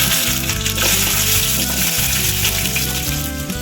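Garlic hitting hot oil for a garlic tomato chutney, already holding softened cinnamon and chillies, sizzling loudly and steadily with a dense frying crackle and occasional stirring knocks, close and continuous with no talking.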